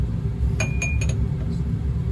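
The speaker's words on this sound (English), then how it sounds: "In this evaporating dish, we'll place a lot of ice cubes." Ice cubes drop into a glass evaporating dish in a chemistry lab, making a quick cluster of about four bright clinks in the middle of the clip over a steady low room hum.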